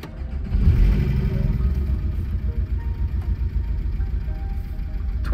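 Porsche 718 Cayman GTS engine turning over and catching, then settling into a close, steady low rumbling idle with a pulsing throb and no talking.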